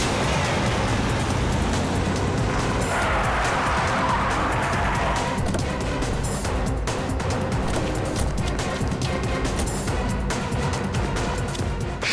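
A car roars off at speed with tires skidding and squealing, the sound loud and continuous, rising into a harsher screech for a couple of seconds before settling into a steady engine rush.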